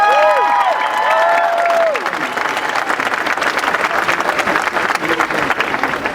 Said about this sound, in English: So please a round of applause for Richard Sherman.